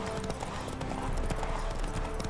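Horse hooves pound at a run in The Witcher 3: Wild Hunt, a rapid steady clip-clop gallop close up and loud over dense in-game ambience, continuous throughout.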